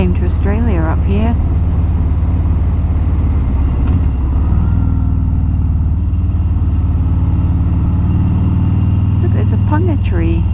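A Harley-Davidson motorcycle ridden by a husband and wife on a road from Cairns to Atherton, Australia, makes a steady low engine drone throughout, while people talk over it at the start and end.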